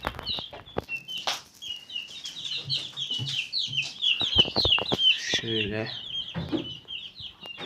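Many small chicks cheep in a dense, continuous chorus of high peeps in a coop, close by, with some shuffling and clucking underneath.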